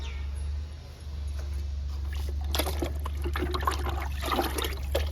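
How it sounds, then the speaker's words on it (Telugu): Liquid chicken-and-neem fertilizer is poured onto moringa plants, giving a soft trickling and splashing over a constant low hum. No voices are heard. "చికెన్ వేపు లిక్విడ్ ఇస్తున్నా"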